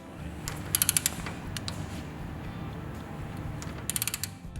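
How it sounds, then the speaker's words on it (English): A floor jack raising the rear axle of a vehicle in a garage gives soft mechanical clicks and ratcheting creaks in short groups, moderately close over a low background hum. "Use a floor jack to raise the rear axle so that the distance between the upper and lower shock mount mounting holes is 15 inches from center to center."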